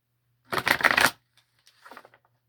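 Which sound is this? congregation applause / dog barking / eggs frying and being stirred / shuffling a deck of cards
shuffling a deck of cards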